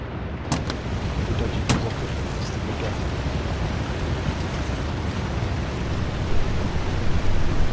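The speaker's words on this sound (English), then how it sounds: "being next to the waterfall because I can't hear anything" A waterfall rushes in The Long Dark, a steady, loud, broad roar filling the whole clip with a few faint clicks on top.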